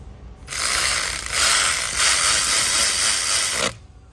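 A hand ratchet tightens the intake manifold bolts on a car engine, giving about three seconds of rapid, loud, close-up clicking in a steady run with a brief dip partway.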